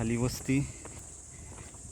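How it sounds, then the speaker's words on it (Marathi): Crickets keep up a constant high, shrill trill along the trail to Talagad Fort in Raigad, steady under a short burst of someone talking near the start. "रातकिड्यांचा आवाज, किर्र आवाज येतो एकदम."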